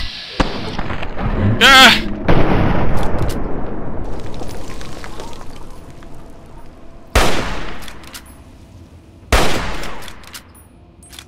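Gunfire in Fallout 3 as a melee-armed enemy's leg is shot: several sharp, loud shots, with a short cry partway through.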